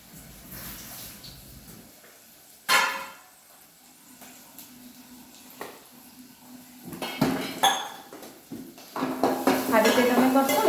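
Crushed peanuts and sesame seeds being sautéed in a pan for bhungla bhajiya, heard as scattered metal clinks and scrapes of a spoon against the pan, quiet at first, then busier and louder toward the end.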